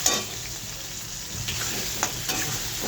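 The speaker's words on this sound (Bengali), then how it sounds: "মশলাটাকে কষিয়ে নিচ্ছি।" Spice paste with pointed gourd and egg sizzles in a pan while being stirred, a steady frying hiss broken by a few scraping and clinking strokes of the spoon.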